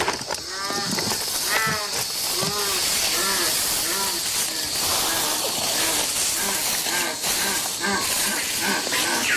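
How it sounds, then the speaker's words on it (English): A jaguar call played from an MP3 player through speakers in the jungle: a series of repeated harmonic calls, loudest at the start, over a steady hiss of the rainforest background. "An MP3 player and speakers broadcast a jaguar call into the jungle."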